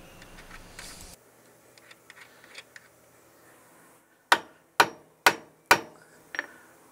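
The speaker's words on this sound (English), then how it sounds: "it's time to drive the anchor bolts into the hole" Four sharp, loud hammer strikes drive anchor bolts into holes drilled for a climate-controlled storage building, evenly spaced with ringing decays, followed by a lighter tap, after a stretch of faint background clatter.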